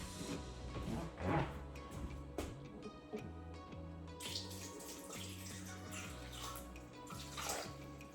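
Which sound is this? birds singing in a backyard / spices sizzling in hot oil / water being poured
water being poured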